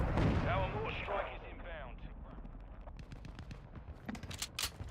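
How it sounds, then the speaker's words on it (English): Mortar strikes land in the Call of Duty video game, a heavy booming blast that fades into a rumble and is followed by scattered bursts of distant gunfire, with talking over the start. "Friendly mortar strike on the way."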